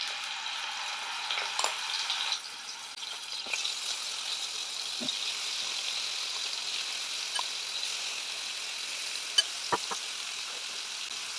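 Marinated paneer pieces fry in hot oil with a steady, soft sizzle throughout, punctuated by occasional faint clicks and taps from utensils, no one speaking.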